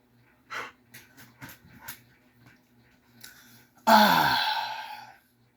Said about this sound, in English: She a good dog. She a pretty dog.